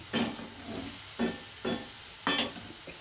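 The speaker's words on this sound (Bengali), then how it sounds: "খুব হালকা হাতে নাড়াচাড়া করতে হবে" Small fish simmering with tomato in a pan are gently stirred, giving about four soft scraping strokes over a steady low sizzle, close and moderately quiet.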